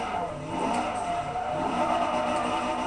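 Car drifting in the racing video game Forza 3, a 400-horsepower car, produces a steady, loud engine roar with continuous tire squeal and skidding, sustained without pause.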